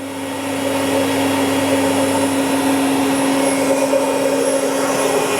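A Citizen M-20III Swiss-type CNC lathe from 2004 with its spindle running at 6,000 RPM, producing a loud, steady, even hum and whine that stays constant throughout, close by with no talking.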